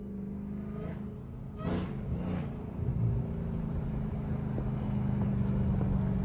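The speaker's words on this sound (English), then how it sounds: "Now them downshifts is nasty." A Dodge Hellcat running with no air intake downshifts, giving a steady, deep engine drone broken by a couple of short, sharp rev blips early on before the rumble settles back to a continuous growl.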